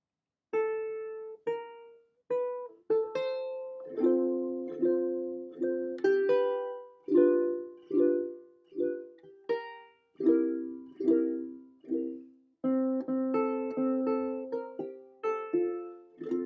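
Plucked ukulele notes and chords, played near the bridge with a thin, bright, twangy tone, in a steady melodic phrase with slight pauses between notes.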